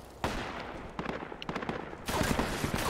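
Automatic machine gun fire in the military shooter game Project Reality, a steady run of rapid bursts that swells louder near the end, with a busy backdrop of distant shots and battle noise.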